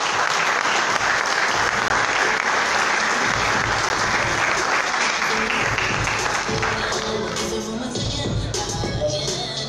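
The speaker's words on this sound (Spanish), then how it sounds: "Un fuerte aplauso para ellos, por favor." Loud applause from a crowd at a football club's presentation event, a thick continuous wash of clapping that thins slightly toward the end as some murmuring and movement come through.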